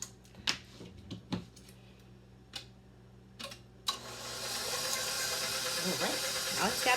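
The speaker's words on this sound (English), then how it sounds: "now we're gonna turn the mixer on" A few clicks and taps lead into an electric stand mixer starting up, then a steady loud whirring hum as it beats chocolate chip cookie dough, close by.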